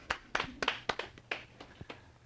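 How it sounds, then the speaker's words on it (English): Sparse clapping from a small audience at a pain relief training session, a handful of distinct, fairly quiet hand claps spaced irregularly. "Give her a big round of applause."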